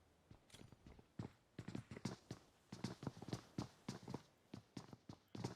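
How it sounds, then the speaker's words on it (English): Player footsteps in PUBG Mobile, a steady run of quiet, distinct thuds overhead, spaced rhythmically and fairly faint, with no talk over them. "You hear them footsteps of THS above him"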